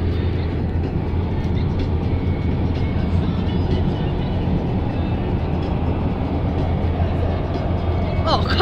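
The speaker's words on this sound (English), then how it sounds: "Whoa, look at that train, guys." Near the Dartford Crossing over the River Thames, a passing train rumbles with a steady, loud, dense roar and a mix of road and traffic noise, while voices speak faintly beneath it.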